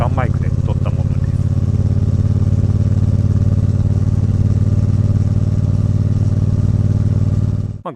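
A motorcycle exhaust idles loud and close in a steady, unbroken rumble, with a few faint sharp ticks near the start before it ends abruptly.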